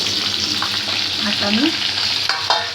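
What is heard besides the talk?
tempering spluttering in hot oil with green chilies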